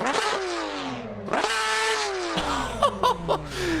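A modded car engine in the racing game Assetto Corsa revs up and settles in smooth rising and falling sweeps, with a few short throttle blips near the end, heard clearly and close.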